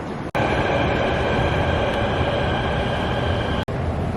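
A Thomson East Coast Line metro train in Singapore runs with a steady, loud rumble and a high electric whine that holds level, with two sharp clicks at the start and end.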